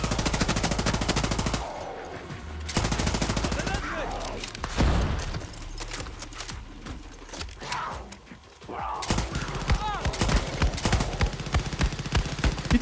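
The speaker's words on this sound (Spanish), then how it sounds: "La ametralladora ligera va muy bien" A light machine gun fires in long automatic bursts in the shooter game Far Cry 6, with rapid rattling shots and pauses between bursts, loud and close, while someone talks over the gunfire.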